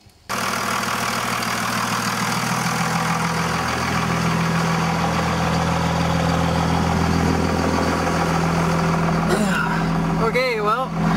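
A truck engine fires up and settles into a steady, loud idle after an Edge tuner install, with a brief crank at the start and a rising whine near the end.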